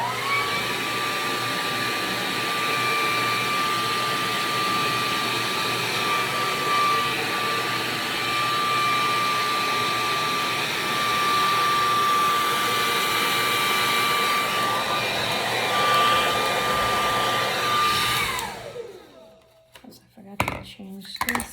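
A KISS Red Tourmaline ceramic hair dryer with a brush attachment blows with a steady whooshing hiss and a thin high whine, running unbroken for about eighteen seconds before it cuts off, followed by a few faint handling bumps.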